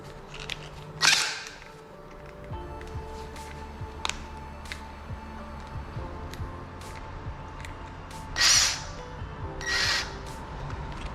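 A screw gun drives screws into metal ceiling framing for a suspended ceiling, giving a few short, sharp whirring bursts separated by long quiet gaps.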